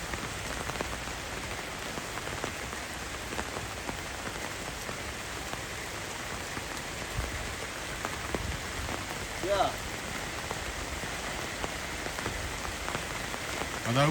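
Steady rain falling on a farm plot where cucumbers are grown, an even close patter on surfaces throughout, with faint voices in the background.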